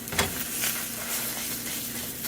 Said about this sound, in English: I just put a 1/4 teaspoon of butter for the zucchini to saute it a bit.